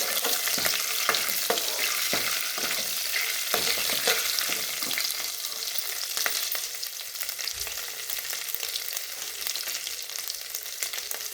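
Garlic sizzles in hot oil in a pan for dal tadka while a spoon stirs it, giving a continuous bright crackle punctuated by occasional scraping strokes.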